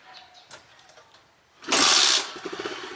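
A Kawasaki KSR motorcycle engine cranks and catches after a few quiet clicks, bursting into a loud rasping start that settles into a lumpy idle.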